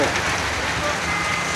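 Rain drums steadily on the tin roof of a restaurant near Diabari in Uttara, Dhaka, a dense, even patter that fills the space without pause.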